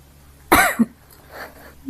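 One sharp, loud cough rings out close by, followed by a quieter breathy sound.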